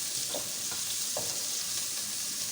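Mutton frying in a pan with browned onion, ginger and garlic sizzles steadily and fairly loudly, with a few soft stirring scrapes and no talk.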